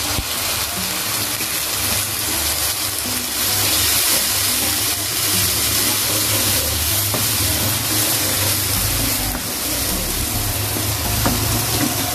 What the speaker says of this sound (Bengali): এই পর্যায়ে একটু পানি দিয়ে দিব যাতে করে মশলাগুলো পুড়ে না যায়